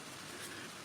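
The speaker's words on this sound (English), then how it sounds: "It's due to rain all day. It's dripping, dripping, dripping, dripping, dripping, dripping." Rain falling and dripping steadily outside an attic window, a soft continuous patter spread evenly through the short stretch with no voices.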